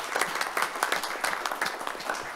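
A crowd gives a round of applause at a CERT event, fairly loud, close and continuous, with individual claps pulsing through a dense wash and no voices over it.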